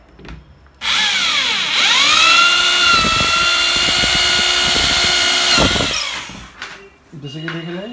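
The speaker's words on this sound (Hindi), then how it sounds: "राउंड वाला में हम लोग का यहाँ पे ड्रिल होगा" A power drill whines at high speed as it bores holes into a wooden box bed frame, one long loud close burst with a falling pitch near the start and a brief spin-down at the end.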